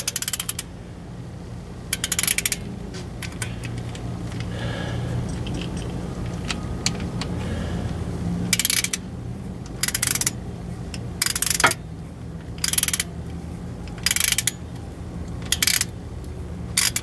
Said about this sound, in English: Got the torque wrench set at 72. So we're going to tighten this down.